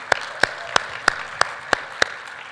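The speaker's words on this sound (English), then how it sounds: "A round of applause for this wonderful MC for today, Fiona." Measured, evenly spaced claps, about seven sharp hand claps at a steady beat, fairly close and crisp, greeting the MC at the Financial Alliance for Women annual summit, with no talking over them.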